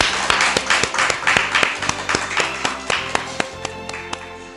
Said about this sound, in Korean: 우리 하나님 앞에 영광의 박수 칩니다